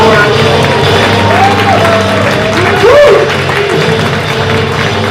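A live show audience in New York City claps and cheers, loud and close, with whoops and voices rising over the crowd noise.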